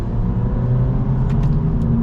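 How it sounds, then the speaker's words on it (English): A 2025 Honda Civic Sport with a CVT pulls away in sport mode, a steady low engine rumble and road whir heard from inside the car, with a few faint clicks. "setting off now in the Honda Civic Sport in sport mode"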